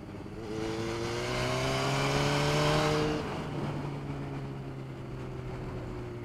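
Motorcycle ridden hard around a racetrack, with the whole bike rattling: a steady close engine drone with a rising, then falling, harmonic whine over broadband rumble and road roar.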